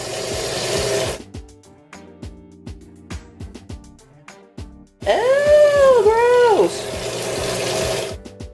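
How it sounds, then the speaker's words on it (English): Warm water runs from a tap onto a solid sponge cleaner while a makeup brush is washed, a steady loud gush that stops, followed by quieter sloshing and scrubbing clicks before the water runs strongly again. "warm water"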